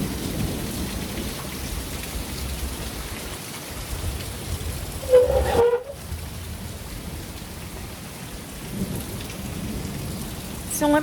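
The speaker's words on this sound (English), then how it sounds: "I love the rain, by the way." Steady rain falls outdoors with a soft, even hiss, and a brief rumble of thunder sounds near the middle before the rain continues.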